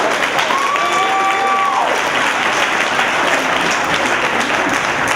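An audience claps in a steady, dense wash of applause, loud and close throughout, while a brief tonal sweep cuts through early on.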